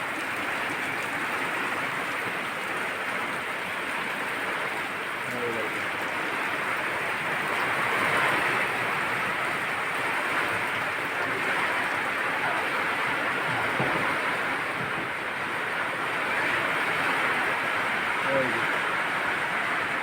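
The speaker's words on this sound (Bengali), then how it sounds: "দেখেছো বাইরে বৃষ্টি কত বৃষ্টি পড়েছে" Heavy rain pours outside in a steady, broadband hiss that fills the background, while people talk over it nearby.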